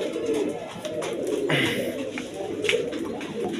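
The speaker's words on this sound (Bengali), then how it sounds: "বন্ধুগণ দেখেন এই রোমান গাল কবুতরটা আমি ছেড়ে দিছি" A Roman gola pigeon let loose coos in soft low repeated calls, close by, amid a busy background rustle and flutter.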